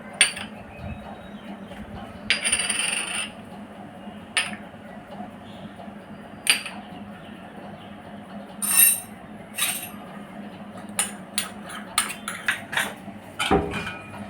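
A spoon clinks and scrapes against a bowl while salt, cumin powder, red chilli powder, black pepper and chaat masala are mixed for crispy sweet corn, in scattered light taps with short gaps over a steady background hum.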